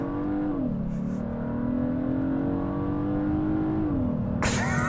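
A 2022 Hyundai Sonata N-Line with a four-cylinder engine accelerating hard uphill, a steady loud drone rising in pitch through gear changes, with a brief higher burst near the end.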